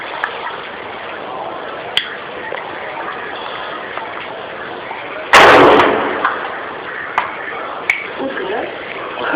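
Video game gunfire crackling as a few sharp, distant-sounding shots spaced through the clip, with one loud burst in the middle that decays slowly, alongside voices talking.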